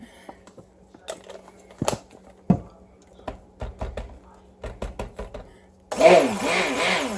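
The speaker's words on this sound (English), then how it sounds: "My poor stick blender is starting to die." A stick blender whirs on loudly and steadily near the end, mixing a cherry almond shampoo bar soap batch, after scattered clicks and knocks of handling; the blender is old and starting to wear out.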